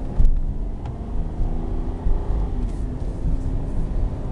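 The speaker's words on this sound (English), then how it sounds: "As you see, the transmission shifts correctly." A 2009 Ford Escape XLT 4x4 with a 3.0 V6 and automatic transmission drives along, its engine and road rumble loud and continuous from inside the cabin, with small surges as it shifts.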